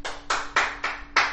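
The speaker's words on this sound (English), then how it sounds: "You get clapping in the background" Five evenly spaced hand claps in the background, moderately faint with a bright, hollow crack to each one.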